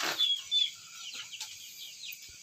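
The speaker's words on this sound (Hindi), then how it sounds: "भाइयों ये इनके घर का एक और मुर्गा है" A rooster at a bird keeper's home gives short clucking calls at close range, with faint background noise around them.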